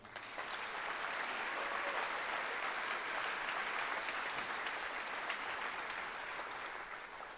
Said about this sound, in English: I'd like to thank and recognize all these people with one round of applause